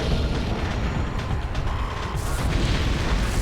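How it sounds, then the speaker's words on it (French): A frigate blows apart in the Metroid Prime video game, a continuous loud rumbling roar with dense crackling debris and deep low booms sustained throughout, no voices. "pendant que la frégate explose comme une merde"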